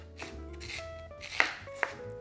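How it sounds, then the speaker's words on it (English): A knife cuts Korean radish into bite-sized cubes for vegan kkakdugi, making soft cutting strokes punctuated by two sharper knocks on the board, close and quiet with no talk. "We're gonna cut this into small bite-sized cubes"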